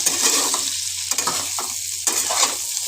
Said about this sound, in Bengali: এবার ভালো করে সব মশলার সাথে সবজিগুলোকে নেড়ে নেব